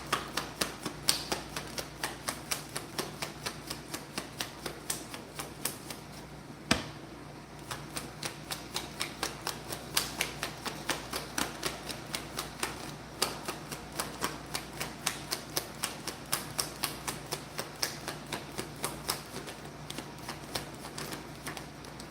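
Tarot cards are shuffled continuously at close range, a dense rapid flutter of riffling card edges that keeps up steadily throughout with no talking.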